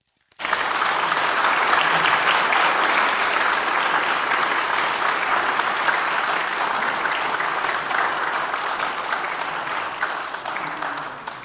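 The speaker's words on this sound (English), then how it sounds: "let us share a round of applause for our FCCV community service members" A Veterans Day recognition audience gives sustained, dense applause for community service members who are veterans. The clapping starts abruptly and holds steady for about eleven seconds before slowly easing, with no voices over it.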